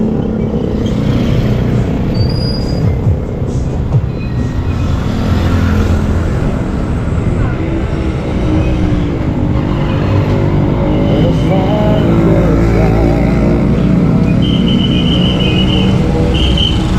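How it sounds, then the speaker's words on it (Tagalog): Heavy, congested traffic of cars and motorcycles at a dark public market, a loud steady rumble of engines close by with occasional revs and faint whistles, and people talking in the background. "Ang traffic na naman dito."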